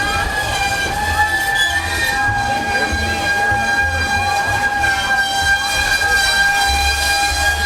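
A train horn blares steadily on several pitches while a heavy rumble of the train passing on a live railroad continues underneath, loud and close throughout.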